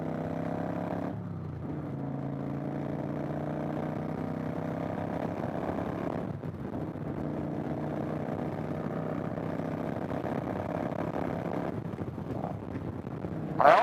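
A 2015 Kawasaki Vulcan 900 Classic motorcycle engine runs steadily while riding, a continuous mid-pitched drone with a brief dip and recovery around a gear change, loud and close throughout.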